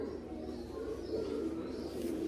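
A cross-breed pigeon coos softly in low, throaty tones over a constant background hiss, fairly close, with no clear talking.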